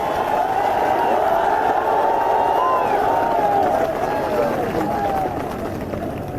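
A large crowd at a political rally roars and cheers in a steady, dense wash of noise, loud and sustained with voices blending in, easing slightly at the end.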